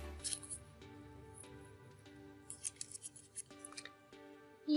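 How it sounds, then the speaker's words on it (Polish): Scissors snip paper cloud shapes in short, separate cuts spread across the clip, close and fairly quiet. "I w analogiczny sposób oczywiście wycinam jeszcze dwie pozostałe chmurki."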